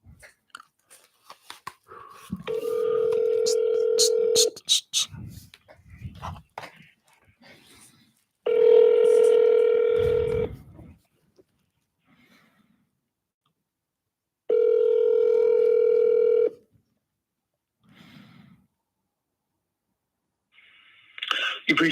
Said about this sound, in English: Transferring to Lee Raphael.